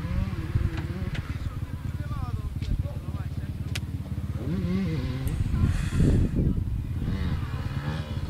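A motorcycle engine runs nearby with a steady putter that rises into revving surges, while people talk over it.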